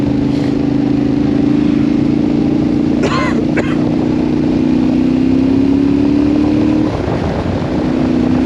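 A Yamaha Tenere 700 Rally motorcycle engine drones steadily under load during a ride, a loud, close, continuous note with a brief clatter midway and a slight pitch shift near the end.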